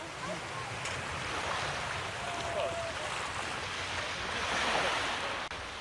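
Beach surf near a lighthouse at Sarbsk roars as a steady, moderately distant wash of breaking waves, with wind buffeting the microphone throughout.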